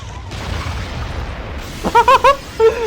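A deep, rumbling explosion from the TV series Smallville fills the first moments, then fades into a few short, bright tonal blips.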